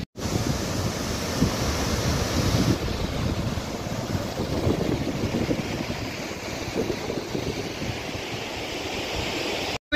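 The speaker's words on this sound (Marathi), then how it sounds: "तुम्हाला पाण्याचा आवाज येत असेल मागच्या साईडला माझ्या." Rushing water of Randha Falls on the Pravara river near Bhandardara fills the scene with a steady, loud, broadband roar throughout, mixed with wind buffeting the microphone and no speech.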